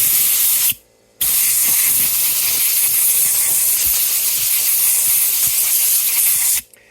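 Compressed air blasting onto a guitar fret to clear out leftover wax, a loud steady hiss that cuts out briefly, resumes for several seconds and then stops.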